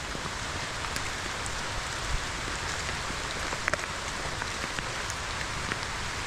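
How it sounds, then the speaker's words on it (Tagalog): Heavy rain pours steadily, a dense continuous hiss of drops on surfaces with occasional louder splashes, no voices. "parang lumakas po yung ulan"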